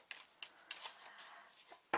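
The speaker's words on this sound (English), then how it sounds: "I'm shuffling the cards facing me, and then I just turn them for you" Tarot cards are shuffled by hand at close range, giving a series of soft papery riffles and taps spaced irregularly across two seconds. The clip ends with one sharper slap of cards.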